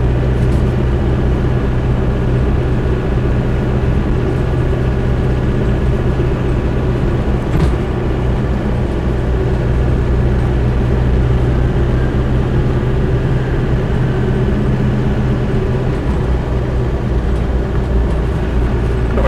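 Land Rover Defender 90 hardtop with a 200TDi diesel driving in traffic: a steady, loud low drone of engine and road noise from inside the cabin, continuous throughout with a brief knock midway.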